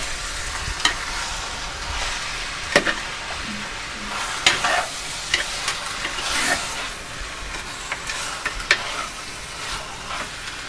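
One kilo of masala-coated mutton sizzles in a hot pan for curry while a spoon stirs it, with steady frying hiss and occasional sharp scrapes and clinks.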